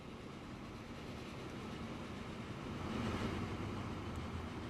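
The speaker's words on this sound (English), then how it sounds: "Wait till this timber train." A timber train rolls along in the Transport Fever 2 railway game, a steady low rumble with a faint rail hum that swells slightly toward the end, with no voices over it.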